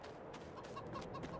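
Chickens cluck softly in Farming Simulator 22, a farming video game, a brief burst of low clucks and a few short higher notes over a steady hum, with no speech.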